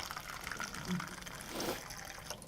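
Water is poured into a container indoors: a short, steady, fairly faint splashing stream lasting a couple of seconds.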